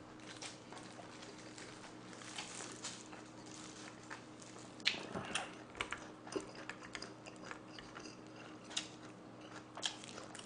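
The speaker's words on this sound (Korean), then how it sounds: "쩝쩝 소리도 안 내고 싶은데 날 수밖에 없어 먹다 보니까" Close, quiet mouth sounds of someone eating jokbal (braised pig's trotters) and tray-style buckwheat noodles, with soft smacking and chewing clicks scattered irregularly over a low background hum.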